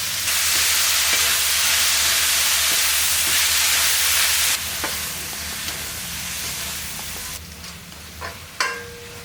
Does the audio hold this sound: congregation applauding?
no